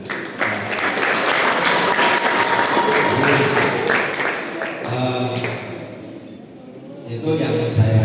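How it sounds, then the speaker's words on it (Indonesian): A seminar audience at an Indonesian school event on safe riding and staying drug-free breaks into loud, dense applause that lasts for several seconds, then thins and swells again near the end. "Tepuk tangan juga."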